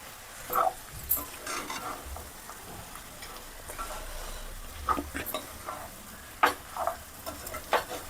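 Beef perattu is stirred and mixed in a hot pan, a low continuous sizzle punctuated by irregular spatula scrapes and taps against the metal.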